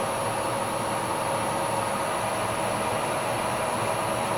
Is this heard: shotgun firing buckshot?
no